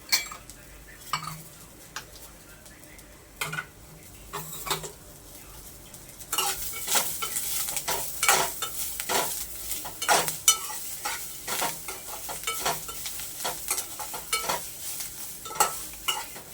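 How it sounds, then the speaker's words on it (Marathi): Masala being roasted for Konkani-style chicken rassa, stirred in a pan: a near spoon scrapes and clatters against the metal over a steady sizzle, with the stirring growing busier and denser in the second half. "हे सुद्धा आपण छान भाजून घेणार आहोत"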